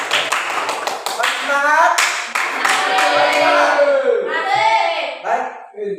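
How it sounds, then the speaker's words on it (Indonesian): A class of children applauds with quick, scattered hand claps up close, while several young voices chatter and call out over the clapping. "mereka aplaus dulu"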